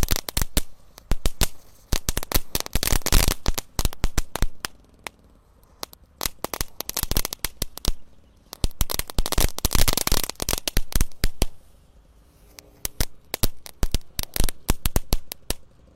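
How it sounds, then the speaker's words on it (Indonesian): A whole pack of colorful dino egg firecrackers burns at once. It gives loud, close, rapid crackling and popping in dense bursts that come in waves, with short lulls between them. "kita nyalakan pretekan warna-warni guys"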